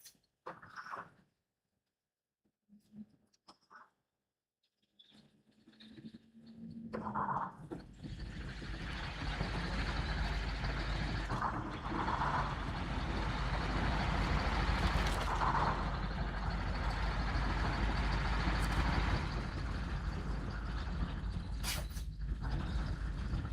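A heavy truck rumbles steadily through mud and muck in the video game Snow Runner, its engine droning continuously after a few quiet clicks and knocks at the start.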